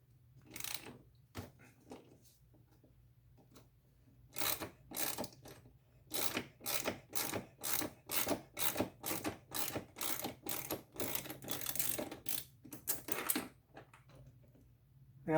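Steady ratcheting as a 6mm tool backs a screw out of a Goldwing Tour motorcycle seat: a run of quick, close mechanical clicks after a few scattered ones, then trailing off.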